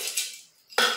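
Frozen chopped onion drops into a Thermomix jug in two brief rattling bursts separated by a short quiet gap.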